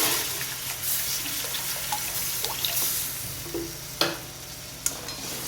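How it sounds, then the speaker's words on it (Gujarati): Water poured into besan masala in a hot pan, giving a soft continuous sizzle and bubbling with a few small pops and clicks, heard without any voices. "હવે એની અંદર આપણે નાખીશું પાણી."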